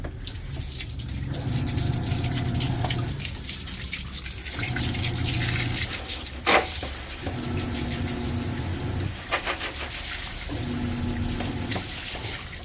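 Water runs from a faucet in a steady, hissing stream that swells and pauses in several bursts, close and fairly loud, with no talk over it.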